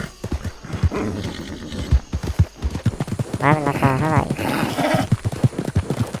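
A horse in the Red Dead video game whinnies loudly in the middle, with clip-clop hooves stepping throughout, heard under steady talk.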